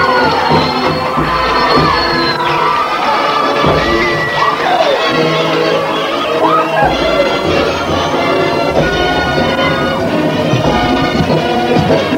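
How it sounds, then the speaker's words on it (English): A crowd at a 1986 high school marching band show in a stadium cheers and shouts loudly and continuously, a dense roar of voices and whoops layered over band music throughout. "The crowd's going wild."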